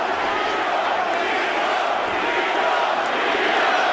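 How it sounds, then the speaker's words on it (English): Arena crowd at an MMA bout between Tito Ortiz and Rogerio Nogueira, a dense, steady roar of many voices filling the hall, loud and continuous with a faint chanting swell throughout. "The crowd is chanting Tito."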